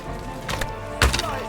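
Arrows whoosh and strike with wooden thunks during a castle siege in Kingdom Come Deliverance 2, two quick impacts about half a second apart, the second heavier, over a low ambient hum.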